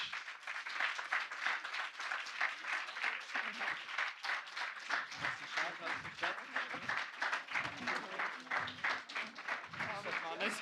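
Quiet, uneven clapping from a startup demo day audience as prize winners come to the stage, with voices mixed in among the claps.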